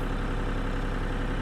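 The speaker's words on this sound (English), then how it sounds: "All right, so I got the cultivator going here. I'm on the tractor." A tractor engine runs steadily while pulling a garden cultivator to hill potatoes, a loud, even mid-to-low rumble heard up close with no talking.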